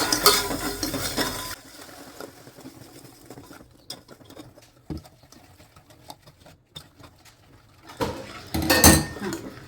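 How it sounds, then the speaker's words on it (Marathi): Sugar syrup being stirred with milk in a pan for Diwali sweets, with scraping and clinking of a utensil against the pan, loud at the start and end and soft patters in between; no talking. "आता दूध टाकून परत त्याला हलवते"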